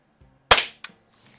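Shot from a youth springer air rifle, either a Diana model 23 or a Falke model 50: a single sharp close pop followed by a faint short mechanical clack, with quiet before and after.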